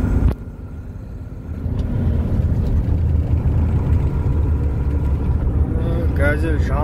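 A GAZelle van drives along a highway from Almaty to Karaganda, its engine and road noise a steady, close low rumble that swells after a quieter start, with a voice briefly audible near the end.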